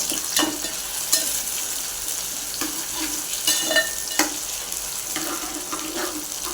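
Tomatoes and curry leaves sizzle and fry in a pan for a bean-sprout curry, with a steady crackle broken by a few louder scraping stirs, close and alone.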